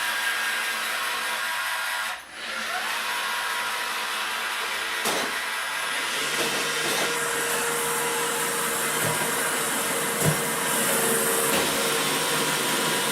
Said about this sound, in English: Uh-oh, my Roomba's gonna start up. There it goes.